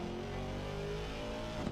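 A GT race car engine in Assetto Corsa Competizione at Monza, a raw, loud, sustained engine roar holding a steady high pitch in a brief burst with no talk.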